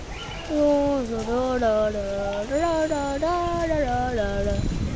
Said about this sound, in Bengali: এখন দেখতেই পাচ্ছেন কত জোরে জোরে বৃষ্টি হইতেছে